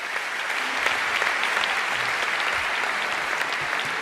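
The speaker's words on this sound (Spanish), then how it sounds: "Un aplauso fuerte para ellos" A hall full of people at a national canoeing awards gala claps steadily and evenly, a broad, continuous wash of applause that neither builds nor fades much across a few seconds.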